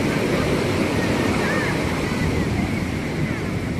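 Steady roar of sea surf washing in at Puri Beach, India, in the morning, a continuous rushing wash with some wind buffeting the microphone, no clear pauses.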